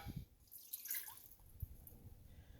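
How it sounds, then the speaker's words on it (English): Water trickles and drips faintly into a Power Quick Pot pressure cooker, a brief, quiet pour with a few splashy drops and no talking. "I'm gonna put 2 cups of water"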